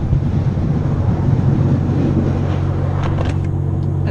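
Idling engine of a Pontiac Grand Prix running on E-85 fuel, a steady low rumble with a strong droning hum, close and continuous with some wind noise against the microphone.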